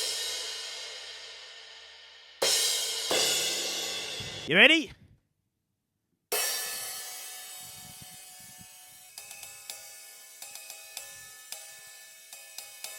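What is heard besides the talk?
old heavy 13-inch cymbal being played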